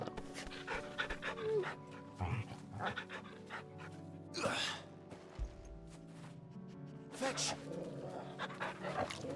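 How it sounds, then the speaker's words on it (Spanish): A dog pants rhythmically in the video game Final Fantasy XVI, close and steady, with occasional whimpers, under intermittent game sounds and effects. "Buen perro, ven aquí."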